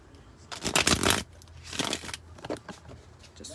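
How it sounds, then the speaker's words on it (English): Tarot cards shuffled by hand in a quiet room, two brisk riffling bursts followed by softer, scattered card flicks, close and fairly quiet. "Just one more shuffle here."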